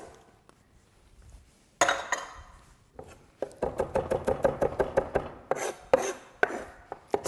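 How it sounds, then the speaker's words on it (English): A kitchen knife chops fresh parsley or coriander on a board: a quick run of crisp, close, evenly spaced strokes with short pauses and a few light clinks, with no talking. "I'm going to chop the parsley or coriander and put that in."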